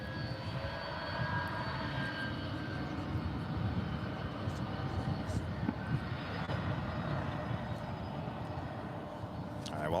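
A jet takes off with afterburners lit, a continuous heavy engine roar holding steady at a moderate distance while faint airport radio chatter is heard.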